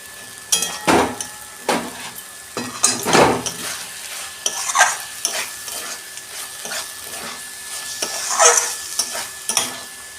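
A papaya curry with roasted shelled peanuts is stirred in a pan, with repeated spoon scrapes and clinks against the metal over a soft background sizzle, all without talk.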